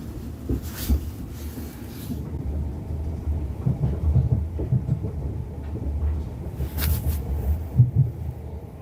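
Train simulator game rumble of a passenger train running along the line, a steady low rolling drone with faint rhythmic clunks and brief brighter hiss bursts near the start and toward the end, with no talk.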